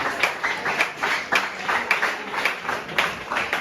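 An audience at a school science and mathematics quiz final applauds together, a steady wash of many hands clapping at close range with no voices over it.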